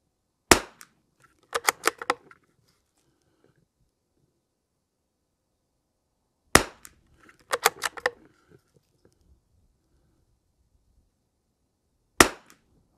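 Lapua Long Range .22LR rounds fired from a Lithgow LA-101 rifle: sharp single cracks each followed by a quick run of ringing target or steel hits, repeated three times with quiet gaps between, no talking.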